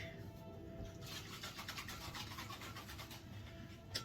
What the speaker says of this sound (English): Notice I did a dry shake.